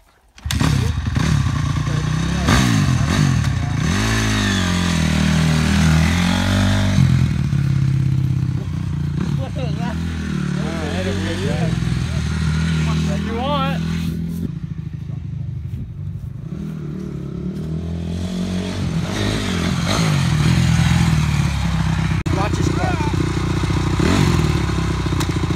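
A red Honda CRF250 dirt bike engine runs steadily and loudly at a track with a ramp, revving up and down throughout, with people talking over it and some clattering.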